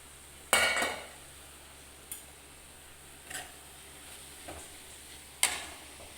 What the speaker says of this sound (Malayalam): ഇളക്കിയിട്ട് കൊടുക്കാം.